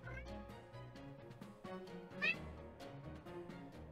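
A cat in the Pokémon Scarlet game meows several times in quick succession, with one sharper, higher cry near the middle, set against soft game music.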